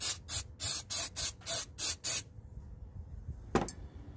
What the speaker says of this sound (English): Let's just spray the throttle body next.